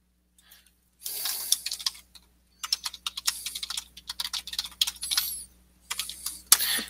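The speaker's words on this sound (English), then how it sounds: "let me just type this in here" Bursts of rapid typing on a computer keyboard, close and clear, with short pauses between runs of keystrokes and no talking.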